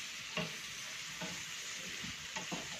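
A spoon stirs buttered garlic shrimp in a pan, with a soft sizzle underneath and about four distinct scraping strokes at uneven intervals, close and fairly quiet.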